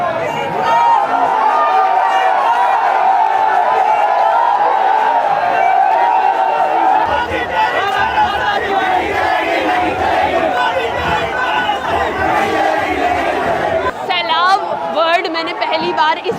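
A large crowd of protesters at Jantar Mantar, with dense shouting, chanting and babble from many voices that continue loud and close throughout, and sharper cries rising near the end.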